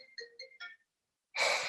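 A mobile phone rings during a Zoom presentation, giving a short melodic ringtone of several quick tones, followed after a gap by a burst of noisy rustle.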